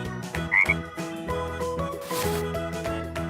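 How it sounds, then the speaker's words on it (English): A frog croaks a couple of quick times over a bright children's-cartoon music background, the call short and clear near the start. "This is a frog."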